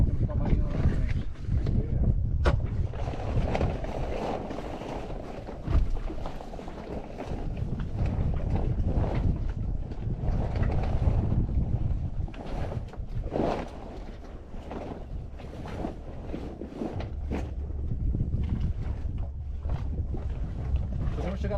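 Wind gusts roar and buffet the microphone aboard a sailboat in moderate wind as the mainsail is lowered, with water sloshing and low rumbling throughout and people talking over it.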